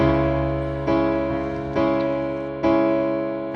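Piano chords played in a pop style, struck in a steady rhythm of four sustained, ringing chords, loud and close with no voices.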